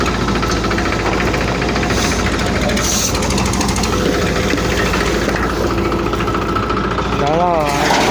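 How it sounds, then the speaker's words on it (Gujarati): A Hitachi excavator and a tractor engine work together while breaking a bridge, a loud, close, continuous knocking diesel roar with rattling vibration that persists throughout, with a person talking over it. "આવી ગયો ટ્રેક્ટર ને લાગી ગયું મશીન કામે"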